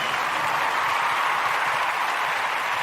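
Dense applause from a large audience fills the whole stretch, a steady even wash of clapping.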